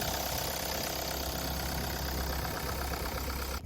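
A used car engine idles steadily just after starting, a continuous low mechanical hum with a faint knocking texture, close and constant throughout, with no voices.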